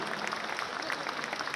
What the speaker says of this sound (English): To a big round of applause to all the entrepreneurs who are seeking the immortality